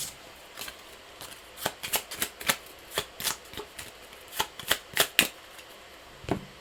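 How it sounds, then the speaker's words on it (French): Playing cards from a discard pile are shuffled during a tabletop card game about artichokes: a series of quick, crisp riffling and flicking bursts, close and fairly quiet, with short pauses between them. "du coup je prends ma défausse que je vais mélanger"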